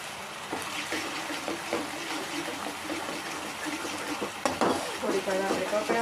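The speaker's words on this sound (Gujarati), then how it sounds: "ઘીમાં લસણ પકડે છે" Garlic frying in ghee for an old-style winter dish, heard as a steady close sizzle with clinks and scrapes of a stirring spoon against the pan throughout.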